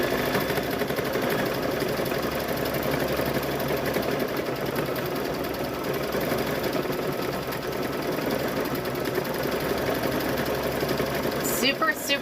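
Sewing machine running steadily while stitching right to the edge of a fall table runner, a continuous close whir lasting the whole stretch, with talk faintly present underneath.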